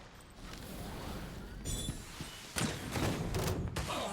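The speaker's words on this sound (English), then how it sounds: "The explosion was roughly the size I expected." A game explosion in Genshin Impact booms out as a heavy thud with a broad burst of noise, followed by a second loud impact and rumbling debris amid ongoing game sounds.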